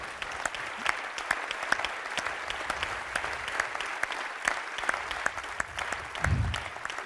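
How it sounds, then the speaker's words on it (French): An audience at a closing gathering gives the operations team a sustained round of applause. Crisp, distinct claps ring out over a steady clatter, with a soft low thump near the end and no speech. "je voudrais qu'on les applaudisse encore"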